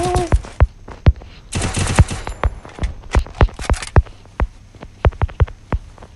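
Gunfire in a battle royale video game's Lone Wolf mode: rapid bursts of sharp shots and automatic fire, loud and close, with a brief rattling flurry in the middle.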